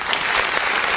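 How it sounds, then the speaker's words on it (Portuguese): A congregation at a church service claps loudly, giving a short burst of dense, steady applause that fills the room. "Vamos dar uma salva de palmas bem forte para o nosso Deus"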